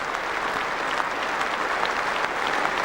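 Cricket crowd at Lord's giving a standing ovation to Inzamam-ul-Haq in 1996, a steady, dense roll of clapping from a large stand, close and full for the whole stretch.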